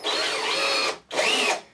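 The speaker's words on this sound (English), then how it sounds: "if you just take your drill, make sure it goes in straight" A power drill tapping threads runs in two bursts, a long steady whir, a brief stop, then a shorter second run, loud and close with no talk.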